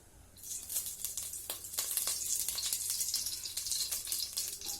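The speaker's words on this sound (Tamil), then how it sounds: "பேன் ஹீட் ஆனோன்னு இதுக்கு தேவையான தேங்காய் எண்ணெய் ஊத்திக்கோங்க" Coconut oil poured into a heated pan gives a steady, close sizzle with crackling bursts and a soft pouring hiss, with no talking over it.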